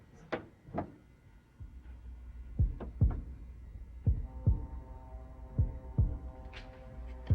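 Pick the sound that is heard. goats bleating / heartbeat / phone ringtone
heartbeat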